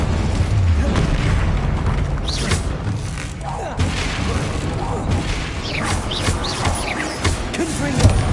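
Incendio fire spell cast in Hogwarts Legacy lands with a deep whooshing boom and crackling rumble, mixed with game sound effects that swell and fade over several seconds.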